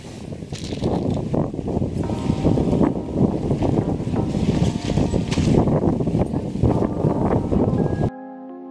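Strong wind outdoors at a campsite during tent setup, roaring and buffeting the microphone in loud, continuous gusts with rustling underneath, cutting off abruptly near the end.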